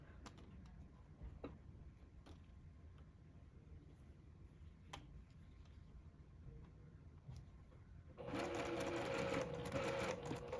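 Sewing machine stitching quilt block fabrics for a zinnia block: quiet faint ticks and handling, then a steady, fairly close run of stitching starts near the end and continues to the close.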